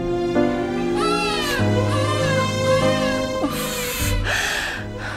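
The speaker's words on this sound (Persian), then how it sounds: "اینم که همش گریه میکنه." A baby cries in a dubbed television drama scene, with repeated loud, wavering wails and gasping breaks that go on steadily without pause.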